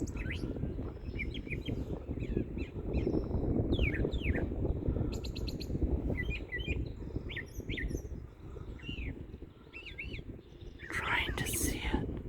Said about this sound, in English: can y'all hear that bird?